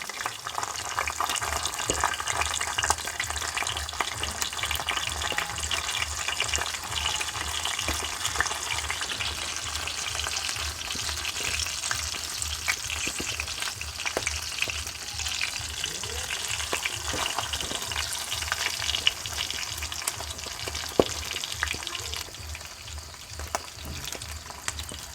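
Semolina-coated komle fish sizzles steadily in hot oil, a continuous close crackling and spitting with small pops throughout and no talking.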